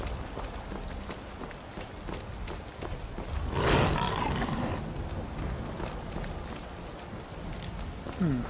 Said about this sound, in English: Oh, saber cat.